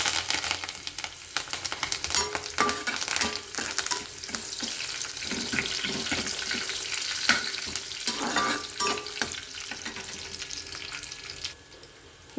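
Dried red chilies, garlic and curry leaves frying in hot oil, a steady close sizzle with crackling bursts and occasional stirring scrapes, no talk.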